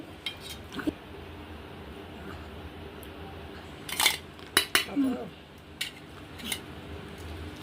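Metal utensils clink sparsely against a pot as fish roe is added to a simmering curry, a few light taps scattered over quiet kitchen background.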